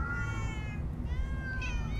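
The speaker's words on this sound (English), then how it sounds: "Oh, many cats. So many cats." Several cats meow in overlapping, drawn-out calls in the Minecraft Story Mode video game, clear and close over a low background hum.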